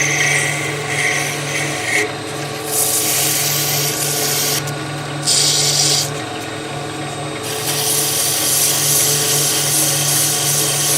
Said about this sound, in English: grab my sandpaper, a little touch here just for a second